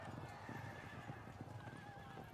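Horses in the strategy video game Field of Glory II, light horse archers in battle: clip-clopping hooves with whinnies and neighs, fairly faint and layered under steady game ambience, with no speech.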